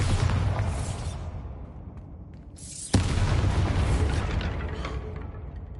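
A Bombarda spell explosion in a Hogwarts video game goes off as a loud, deep booming blast with a sharp crack near the middle, then a long rumbling roar that fades slowly.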